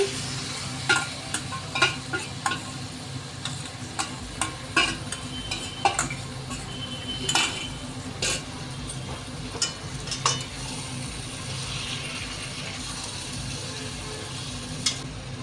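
Marinated chicken going into a spiced paste in a pan, frying with a steady low sizzle while being stirred, with scattered clicks and scrapes of a utensil against the pan throughout and no talking.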